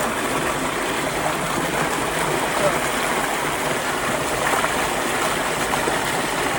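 Irrigation water rushes into a rice paddy on a Punjab farm, a steady, loud broadband gush that holds evenly throughout with no breaks.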